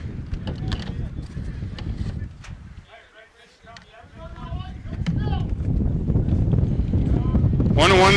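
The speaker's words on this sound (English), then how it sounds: "Windy day here at Redhawk Park." Wind buffets the microphone in a steady low rumble at an outdoor varsity baseball game, briefly easing before rising again, with a voice talking over it.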